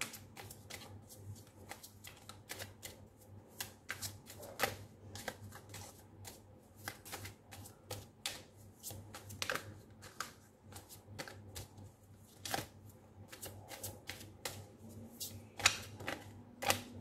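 Morgan Greer tarot cards being shuffled by hand, a dense run of crisp riffling snaps and soft slides, close and continuous for the whole stretch with no voice.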